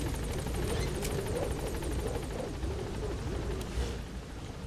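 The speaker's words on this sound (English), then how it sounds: "Get in the chopper." A Metal Gear Solid V helicopter fills the scene with a loud, steady rotor thrum that holds throughout and fades slightly at the end, with no talking.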